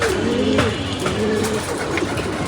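A female racing pigeon coos softly near the loft under an overcast sky, a few low throaty calls over faint background noise.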